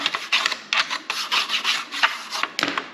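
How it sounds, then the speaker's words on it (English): Brisk scrubbing of Audi TT Mk1 coupe trim with a brush after a squirt of trim cleaner, a series of short raspy bristle strokes in an uneven rhythm, close and clear. "Going to give it a little scrub with the brush as well."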